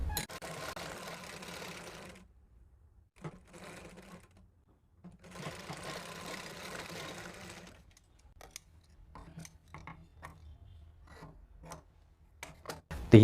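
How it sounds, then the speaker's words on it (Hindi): A sewing machine stitches the shoulder seam of a plain blouse in two steady runs of rapid mechanical whirring, separated by a quiet pause, followed by scattered ticks and clicks of handling the fabric. "दोनों शोल्डर को हमें इस तरीके से जोड़ना है और इसमें हम सिलाई देंगे"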